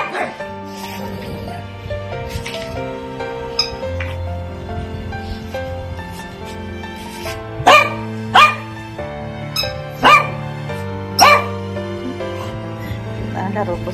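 Freshly clipped pet dogs squabbling over a ball bark in a short burst of four or five sharp, loud yips near the end, after a stretch of scuffling and background noise.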